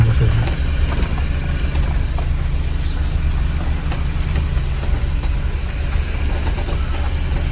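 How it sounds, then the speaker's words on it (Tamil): A school bus engine idles close by, a steady low rumble with a mechanical knock holding evenly throughout, no talk over it. "school bus"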